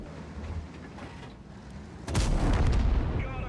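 A Conqueror tank's main gun fires once in a video game. A single heavy boom lands abruptly about two seconds in, over a quieter background hum.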